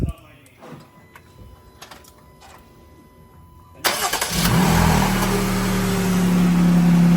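After a few quiet clicks and fumbling sounds, a car engine with a Borla loop delete exhaust cranks and roars to life, then holds a loud, steady rumble.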